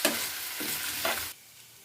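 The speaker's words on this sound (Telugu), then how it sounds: "బాగా కలుపుకుందాం." Onions and curry leaves sizzle loudly in a hot pan while being stirred in a few quick scraping sweeps, the noise cutting off abruptly near the end.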